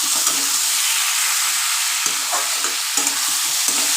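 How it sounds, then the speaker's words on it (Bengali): Spices sautéing in hot oil for a Bengali katla fish curry with potato and green banana, a steady loud sizzle and hiss with soft stirring scrapes throughout, no voices. "ব্যাস এবার কষে নিই"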